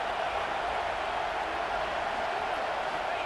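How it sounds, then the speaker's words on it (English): Steady stadium crowd roar in the college football video game EA Sports College Football 26, a constant, even wash of distant cheering with no clear peaks. "this crowd is fired up. Listen to this noise here."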